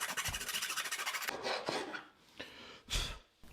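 Rasping strokes on the edge of a wooden tabletop for a homemade tool cabinet, a rapid run of rhythmic scrapes followed by a few slower, separate rubbing passes, close and fairly loud with no talking.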